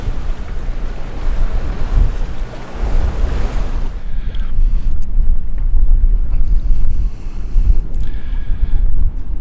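A sailing catamaran motors into choppy seas against a 10–15 knot headwind, with waves slapping the hull, constant wind buffeting the microphone and a low engine drone beneath, loud and close throughout.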